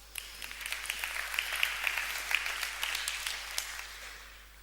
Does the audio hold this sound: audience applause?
yes